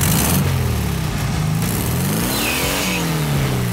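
A street rod's engine starts and runs loud and close, its revs swelling up and falling back down with a raspy exhaust note.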